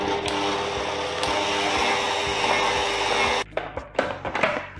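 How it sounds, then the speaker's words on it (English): Dry ingredients for a Schmandkuchen cream cake being mixed with a whisk: a steady whirring buzz for about three and a half seconds, then it stops and a few light clatters and knocks follow. "The whisk might help. Mix the dry ingredients just real quick."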